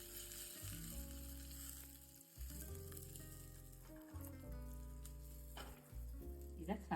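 Curry leaves sizzle and crackle in hot oil for radish sambar seasoning, a steady loud frying hiss with bursts of spattering, close and continuous with no talk.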